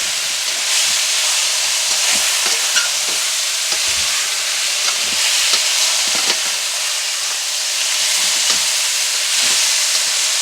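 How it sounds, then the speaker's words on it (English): Beef sizzles loudly and continuously in a hot frying pan, a steady bright hiss with occasional pops and crackles, no voices. "You hear that nice sizzle?"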